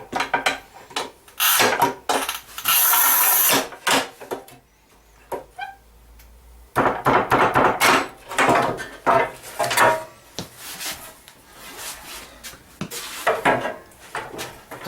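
Manual tile cutter scoring and snapping 11 mm porcelain stoneware tile in half, with repeated scraping, clacking and knocking strokes in uneven bursts, close and fairly loud, separated by short quiet pauses.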